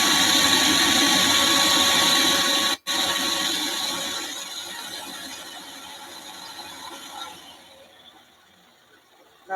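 A vacuum cleaner runs steadily at close range, loud and continuous, cutting out briefly, then fading gradually before starting up again at the end.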